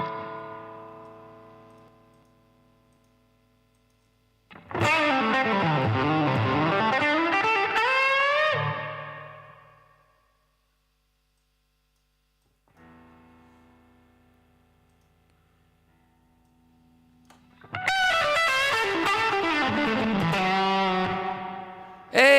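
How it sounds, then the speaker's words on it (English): An electric guitar played through a distortion effect during blues practice rings out in two loud, sustained bursts of heavy, buzzing chords, separated by a quieter, thinner passage. "Let's get some distortion."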